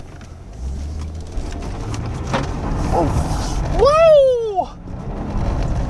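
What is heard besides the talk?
Maserati Ghibli engine revving, tires spinning doing a donut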